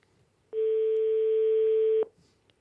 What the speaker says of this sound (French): Et la sonnerie de Mme Glemarek, Elena.